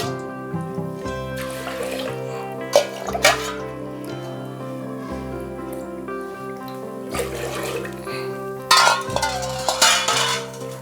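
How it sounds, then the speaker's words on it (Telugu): Water is poured into a pot of toor dal and moong dal for sambar rice, a few brief gushing bursts standing out over steady background music. "మూడు గ్లాసులు వాటర్ అండి"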